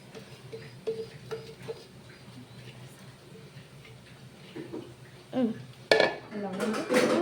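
Rice and shrimp biryani being stirred in a pot, with a few scattered metal spoon scrapes and clinks against the pot, growing louder and busier near the end, with no talking.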